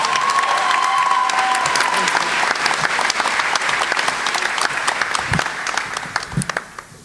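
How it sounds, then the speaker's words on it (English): Loud applause from an audience greeting Stephanie as she comes up to read her essay about mental illness, a dense wash of clapping with a few whistles early on, thinning toward the end into scattered claps. "give a roaring applause for my good bud"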